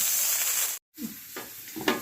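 Chicken fried rice is scooped from a hot wok into a hot case, with loud close sizzling and stirring scrapes, broken by a brief silent gap.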